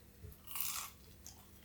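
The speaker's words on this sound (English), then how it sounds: "It's really crunchy on the outside and really soft on the inside because of the potato." A single crisp bite into a crunchy pan-fried gluten-free vegan potato farl with mozzarella, close and quiet, a short crackling crunch followed by faint chewing.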